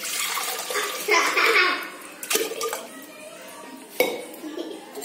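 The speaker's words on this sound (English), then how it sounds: "pot I am adding 3 cups of water." Water splashes and pours into a copper pot for ragi ball cooking in a kitchen, with metallic clinks and bumps in between, fairly faint and close.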